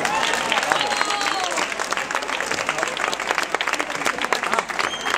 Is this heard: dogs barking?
no